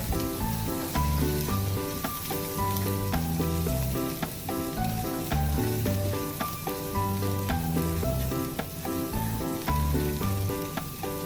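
Curry powder sizzling in a pan while being stirred, a continuous frying hiss under a steady tonal music bed, with no talking.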